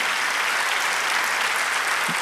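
Dense, continuous congregation applause at a church jubilee service in Poughkeepsie, New York, a uniform wash of many hands clapping with no voices over it.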